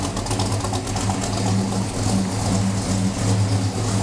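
A 1969 Dodge Charger engine idles steadily through Dynomax Ultra Flow mufflers, a close, continuous low rumble with no talking.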